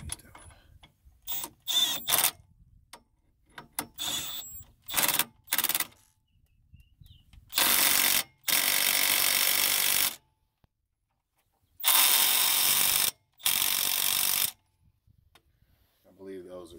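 Right-angle ratchet and torque wrench tightening brake caliper bolts on a 2004 Chrysler Pacifica, quick bursts of metallic ratcheting clicks followed by several longer loud ratcheting runs, separated by silent pauses.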